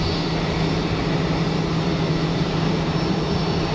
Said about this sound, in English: So much harder to track small aircraft.